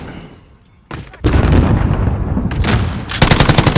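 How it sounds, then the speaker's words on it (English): Loud, sustained automatic gunfire in the Call of Duty Warzone game starts abruptly after a quieter stretch, with dense overlapping bursts and booms close to the listener. "Just keep shooting at him."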